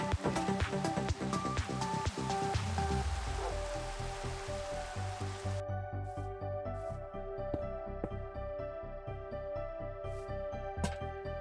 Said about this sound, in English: Better get some sleep and get rid of this rain.